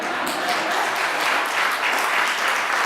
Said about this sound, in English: yes, you can applaud.